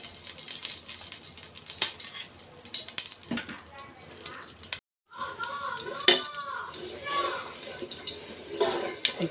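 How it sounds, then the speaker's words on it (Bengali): Beef frying in ghee for a Pakistani beef Peshawari, a wet sizzle and spatter under a voice speaking, with a brief drop to silence midway before louder crackling and bubbling resume. "ঘিয়ের ভিতরে এখন আমি মাংসগুলো ভেজে নিব।"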